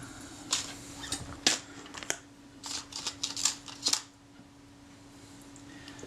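Close mechanical clicks and small metallic ticks come in an uneven cluster, like a camera shutter being fired and handled, then quiet room tone.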